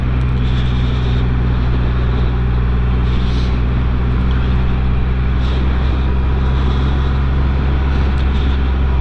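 A car engine drones loud and steady while driving, a deep continuous roar with broadband road rumble that never lets up.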